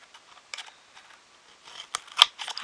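Scissors trim a notch in soft material for a wagon axle, a few faint snips and rustles that grow into sharper clicks near the end, close and quiet with no talking.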